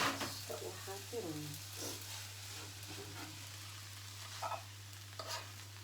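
Spring roll filling stir-frying in a pan with plenty of soy sauce, a steady low sizzle with a few louder stirring scrapes and clatters near the mic, and a steady hum running underneath.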